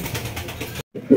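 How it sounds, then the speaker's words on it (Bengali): Pigeons, including a male, coo up close at a pigeon seller's, with a soft murmuring cluster of calls, a brief silent break, then a louder, deeper coo at the end. "আর এইটা হচ্ছে নর কবুতর"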